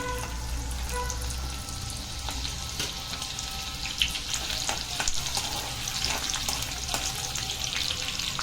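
Two or three finely chopped green chillies fry in hot oil for paneer masala, making a continuous, even sizzle close by, broken by a few soft stirring taps and no talk.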